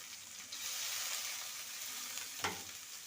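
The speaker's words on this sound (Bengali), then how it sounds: "পেঁয়াজটাকে ভেজে নেব।" Sliced onions frying in a pan for a Bengali ridge gourd and potato poppy seed dish, giving a steady close hiss of sizzling oil with a brief stir or clatter near the end and no voices.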